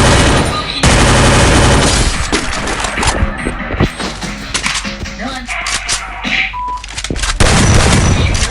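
Loud, dense gunfire from a shooting video game, rapid automatic bursts and single shots packed together over game noise and music for several seconds.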